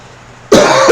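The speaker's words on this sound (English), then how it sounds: "I apologize for coughing through all of this" One sharp, loud cough bursts out close by after a moment of near silence, then trails into a rough throat-clearing rasp.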